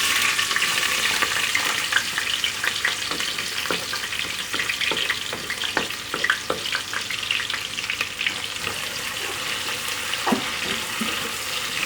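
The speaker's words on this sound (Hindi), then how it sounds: "व्यूअर्स देखें, घी गरम हो गया। अब मैं इसमें प्याज ऐड करूँगी।" Onions sizzle in hot ghee in a pressure cooker, a busy, continuous frying hiss with repeated scraping and tapping from a spoon stirring. The sound is near and moderately loud, with no talking.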